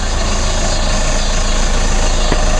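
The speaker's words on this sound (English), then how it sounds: "Sure love hearing the sound of the turbo on these diesel engines." A steady, unbroken diesel engine idle from a 2014 Chevrolet Cruze, with a constant high turbo whine riding over a low rumble, close and loud, with no talking.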